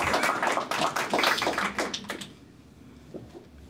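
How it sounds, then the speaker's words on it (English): Scattered audience applause at a veterans homelessness update meeting, a burst of claps that thins out and fades after about two seconds, leaving quiet room tone. "Yes, there's another applause."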